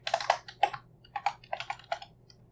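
Computer keyboard typing as Minecraft commands are entered, a quick run of a dozen or so close, crisp key clicks in uneven bursts, with no talking.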